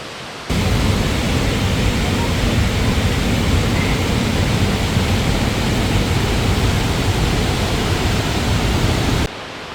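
Whangarei Falls waterfall in New Zealand, a loud, steady rushing roar of falling water that fades in and cuts off abruptly near the end.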